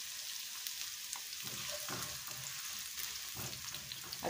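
Chopped onion with garlic sizzles steadily in a hot pan, a continuous close hiss with a few soft stirring scrapes and no voices.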